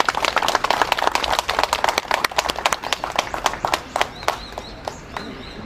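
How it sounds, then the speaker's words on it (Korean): Crowd applause at the founding ceremony of a Korean patriotic veterans' association, dense rapid clapping from many hands that swells and then thins out to scattered claps over about five seconds. "감사의 박수 부탁드립니다"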